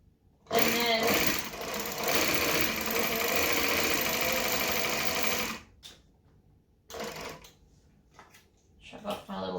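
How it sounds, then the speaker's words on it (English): A sewing machine runs its bobbin winder with a steady, fast mechanical whir for about five seconds, then stops; a few shorter bursts of machine running follow. "Let's get a little bobbin winder on the side. Pop that in. Machine is on."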